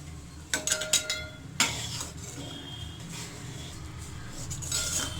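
Rice added to a pot for Tamil sweet sarkarai pongal, with a few sharp clinks and scrapes of a metal utensil against the vessel early on, then a soft steady rustle of stirring.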